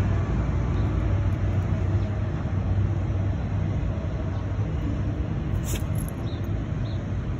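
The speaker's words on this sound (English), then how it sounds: "Train's here." A train passing through a residential neighborhood in spring, a steady low rumbling roar that holds throughout at moderate distance, with faint bird chirps above it.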